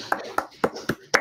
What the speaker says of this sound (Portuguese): Todo mundo pode tirar do mudo, bater umas palmas.